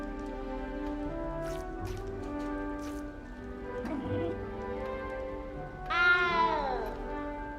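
A cat meows in the Hogwarts Legacy video game, a rising, tonal cry near the end heard over sustained musical background tones, with a few brief clicks earlier.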